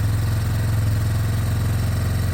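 A 2003 Yamaha Big Bear 4x4 quad that has not run in about eight years idles steadily after starting, with a loud, close, even engine chug throughout and no talk.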